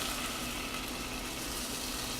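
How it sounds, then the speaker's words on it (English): Steady, close sizzling and bubbling as whole milk is poured into a simmering butter and brown sugar caramel sauce in a pan, a continuous hiss with no talking. "It might simmer a little bit as you put it in there."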